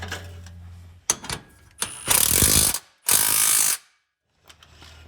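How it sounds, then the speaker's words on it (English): Close ratchet clicking as exhaust band clamps are tightened on a Jeep Gladiator with a Dynomax Quiet Crawler system, a few short clicks followed by two longer, loud rapid ratcheting runs, then silence. "I'm now gonna align every piece and then we're gonna go ahead and tighten up these clamps"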